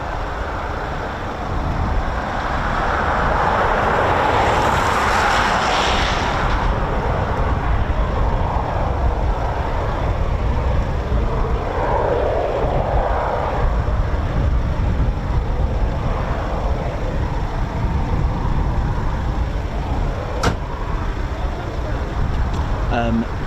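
Eurofighter Typhoon FGR4 jet engines spool up at RAF Coningsby, a steady, broad, distant roar that swells briefly and then holds under a person talking throughout.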